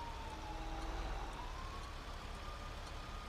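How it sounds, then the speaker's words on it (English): A siren in GTA 5 wails faintly in the distance, one rising and falling tone under steady traffic and engine rumble, with no talk. "That's a siren."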